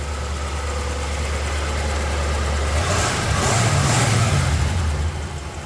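A 1966 Chevrolet Impala V8 engine with a 2-barrel carburetor idles with a deep, steady rumble, close by, with a slight rise in intensity partway through and no talking.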